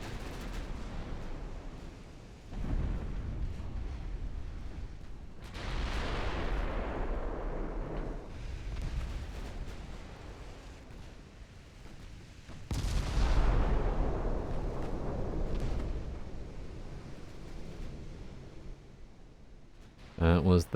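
Heavy warship guns in Ultimate Admiral Dreadnoughts fire armor-piercing shells, making a few deep booming salvos that roll and decay over several seconds, spaced well apart, with someone talking over them.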